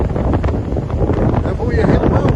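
Strong wind buffets a microphone on an offshore rig during a rig move, a loud, steady roaring rush with gusty swells across the short stretch.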